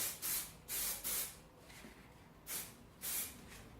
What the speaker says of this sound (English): it's quite easy to give them a quick spray paint